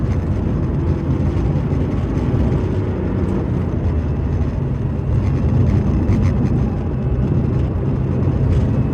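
A four-wheel-drive Porsche 964 911 drives along with a continuous engine and road rumble, steady and fairly close, with slight swells in level and no speech.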